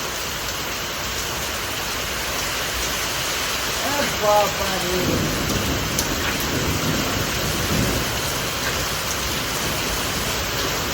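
Heavy rain falls during a morning storm, a dense steady patter and hiss on surfaces, with a voice speaking briefly in the middle over the downpour.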